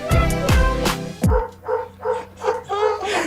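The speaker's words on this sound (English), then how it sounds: "These dogs are getting super irate." A dog barks repeatedly in a steady rhythm, short sharp barks following a louder, tonal opening burst.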